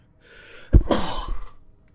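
A single sharp sneeze bursting out of near silence, close and loud, trailing into a short breathy exhale with a faint hum of computer game audio behind it.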